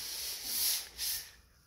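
Two close, hissing sanding strokes rub across a steel roof insert welded into a 1920s or 1930s car, each swell rising and fading in quick succession.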